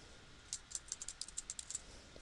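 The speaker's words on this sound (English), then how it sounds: "Then type in your computer password" A Mac computer keyboard clicks out a quick run of about a dozen light keystrokes entering a password, close and soft against a quiet hiss.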